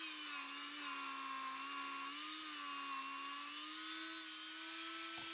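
A saw blade cuts through wood to form a mortise, producing a steady, high-pitched whine held at constant pitch throughout, fairly faint and with no voices.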